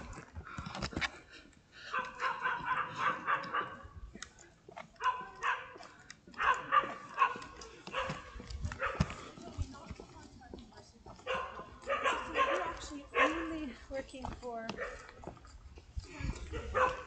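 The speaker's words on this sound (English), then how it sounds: "I think the dogs are barking" Several dogs bark and yip repeatedly at a moderate distance, in irregular bursts throughout, with some whimpering between the barks.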